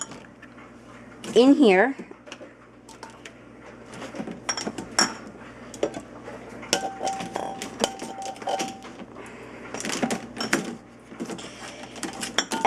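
Glass canning jars clink and knock against a metal jar rack in a series of short, irregular clatters and taps, close by, with a person talking throughout and a brief whistling rattle near the start.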